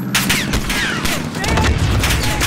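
Gunfire during the Embassy mission of Call of Duty Modern Warfare (2019): dense, loud volleys of shots and booms, with voices calling out over the continuous firing.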